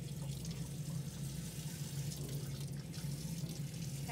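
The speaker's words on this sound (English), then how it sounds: "I'm going to turn on the faucet" Water runs from a faucet into a sink for hand washing, a steady close rush with a low hum under it and no talking.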